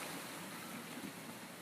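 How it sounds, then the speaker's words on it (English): A rain shower falls outside an RV in Florida, a faint, steady broadband hiss of rain with no voices. "And now here comes the obligatory once-a-day rain shower in Florida."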